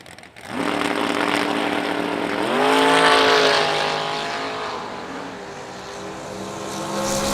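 A Plymouth Duster and a Chevy II launch off the line at a drag strip, their loud engines roaring up in pitch through the gears and fading down the track, with no voice over the engine noise.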